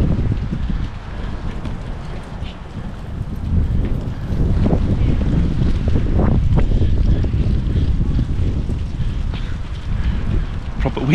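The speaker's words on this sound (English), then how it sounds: "Proper windy day today." Strong wind gusts on a cold, blustery winter day out near Ely Cathedral, a loud, continuous rumble buffeting the microphone with no voices over it.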